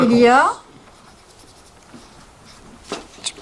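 A pen moves on paper during a school lesson. A short burst of a voice comes first, then quiet, faint scratchy strokes sound close by.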